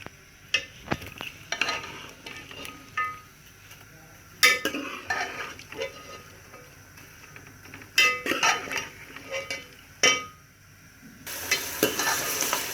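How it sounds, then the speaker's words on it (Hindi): Potatoes fry in a pan, with a soft continuous sizzle broken by several sharp clinks and scrapes of a spoon stirring against the metal, all at close range and with no talking. "तो 2 से 3 मिनट आलू को फ्राई कर लें अच्छी तरह।"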